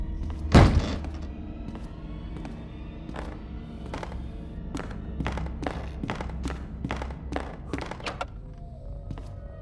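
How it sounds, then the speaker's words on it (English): Door being opened in the CASE Animatronics mobile game: one heavy thunk at the start, then a run of soft mechanical taps and clicks, fairly quiet throughout. "Let's try to open the door."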